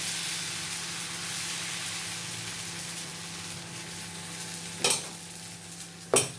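Batter for a Mumbai-style masala dosa sizzles as it is spread on a hot pan, a steady, fairly quiet hiss broken near the end by two sharp scraping strokes.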